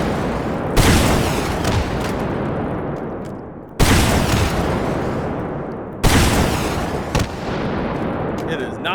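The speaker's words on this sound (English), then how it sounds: "this is just a full power rocket" Three full-power rocket explosions in the H3VR game, each a sudden loud blast trailing into a long rumbling decay, spaced a few seconds apart.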